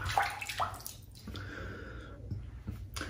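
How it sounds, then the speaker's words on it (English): Water sprinkled by hand onto a shaving brush during a wet shave with soap, heard as a few close, soft splashes and drips near the start, followed by quieter wet squishing and trickling. "I kind of like to sprinkle the water on the brush"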